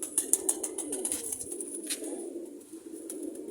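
A pet quail kept among pigeons gives soft, repeated cooing calls at mid distance, with sharp high chirps scattered over a steady murmur of ambient noise; no talking is heard.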